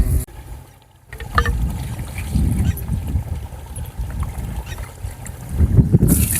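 A pesticide sprayer works a cotton field near power poles and a well, making a continuous low, rough churning rumble with a watery hiss that swells and dips, briefly dropping out about a second in before resuming close and loud.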